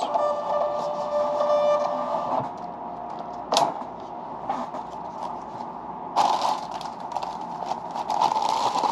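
A small printer whirs and buzzes in several mechanical passes, with short clicks and feed noises between them, close by and without speech.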